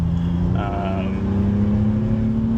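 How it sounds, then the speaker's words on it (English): A 2018 BMW M2 engine drones steadily at near-constant revs, heard close and fairly loud throughout, with a brief higher-pitched whine rising and fading partway through. "So this car has a lot more rev hang than my Miata, which is why I'm early on the clutch lift"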